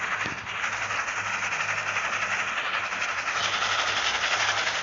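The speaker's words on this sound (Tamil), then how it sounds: "பார்த்தாடி ட்ரெயின் வந்துருச்சு" A video game train arriving, a continuous hissing, rumbling rail sound with steady steam-like noise, moderately loud and unbroken, with no voices over it.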